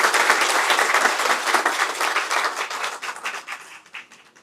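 An audience claps warmly to welcome the Prime Minister at a Senegalese Women's Rights Day speech, with dense sustained applause that thins and fades out over a few seconds.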